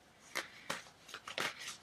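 Tarot cards being shuffled, several quick papery riffles and slaps in an uneven rhythm, close by with no talking.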